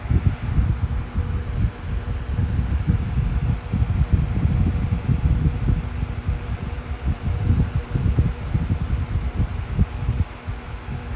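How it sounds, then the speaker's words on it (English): A brand-new ArcticWind 10-inch window/table box fan running, a steady close whooshing airflow with low rumbling buffeting and a faint hum, no one speaking. "this is a brand new fan. Yeah, it's moving quite a bit of wind."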